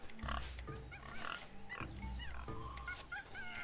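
Repeated synthetic pig oinks and grunts from the video game Tales of Monkey Island sound close and loud over a busy game background, with squeaky animal calls scattered throughout.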